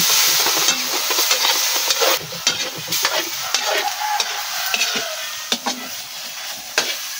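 Adobong tuway (clams in adobo) being stirred in a hot pan, with steady sizzling and frying under repeated scraping and clattering strokes of the utensil, no voices.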